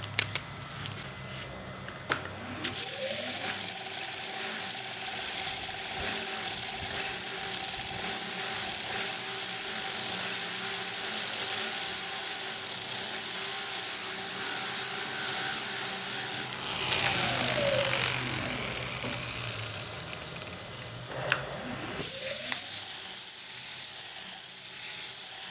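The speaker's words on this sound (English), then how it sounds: "I'm just using my sander to create a nice round radius there" Power sander smoothing a round radius on a wood-turning piece, a loud steady whirring rasp that runs for long stretches, briefly drops to a softer, changing scrub, then returns at full strength, with no talk.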